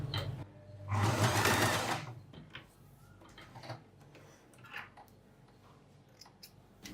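A sewing machine stitches a bias strip onto the neck of a net kurti in one short, fast whirring burst, followed by faint ticks and handling sounds.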